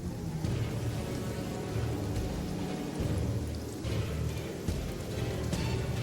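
A heavy rainstorm with thunder roars steadily, dense hissing rain over deep low rumbles that swell and fade, loud and continuous with no voices.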